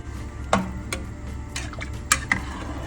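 Khichdi is stirred in a cooking pot, with scattered spoon clinks and taps against the pot over a faint, low background.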